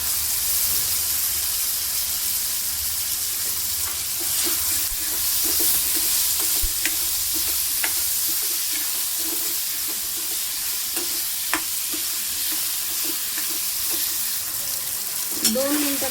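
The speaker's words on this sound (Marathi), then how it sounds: "दोन मिनिटं बटाटे आपल्याला तेलामध्ये परतून घ्यायचं आहे" Chopped, washed potatoes fry and get stirred in hot oil with garlic and tomato for a brinjal-potato curry, giving a loud, continuous sizzle with occasional scraping spoon strokes.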